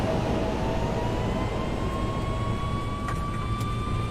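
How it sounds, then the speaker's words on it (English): Thrust reversers on an A300-600F freighter landing in the X-Plane 11 simulator, a steady, loud jet roar with a high whining engine tone throughout, continuous and unbroken with no talking. "Reversers deployed. We're slowing down."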